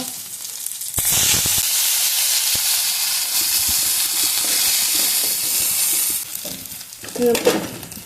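Chopped onion frying in oil in a kadai for palak paneer gives a loud, continuous sizzle with scattered crackles and stirring scrapes, easing off near the end as a few clatters come through.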